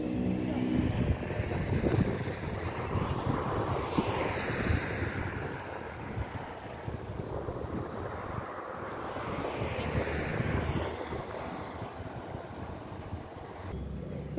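Sea waves and steady wind at a crowded public beach run by Dikili municipality on a hot day, surf washing in broad swells under heavy wind buffeting on the microphone, loud and continuous.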